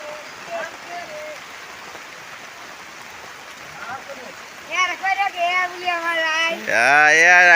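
Rain falls steadily at an outdoor market, a constant soft hiss of drops, while people talk over it and a higher voice rises near the end.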